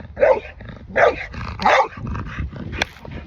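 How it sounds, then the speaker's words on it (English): A dog gives three loud bursts of barking with growls and yips in between, close and agitated, with no talk over it. "Oh, this dog is going crazy."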